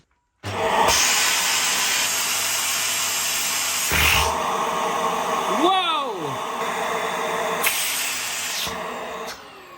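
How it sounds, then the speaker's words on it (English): A Vax Air Stretch Pet Max vacuum cleaner roars loudly and steadily in a suction test, its pitch shifting mid-run with a brief whistling squeal before it settles back to a constant drone. "Yep, Vax Airs definitely have good suction on them."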